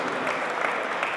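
Applause from an audience at a poetry recital, a mushaira in London, fills a short burst of dense, steady clapping without voices over it.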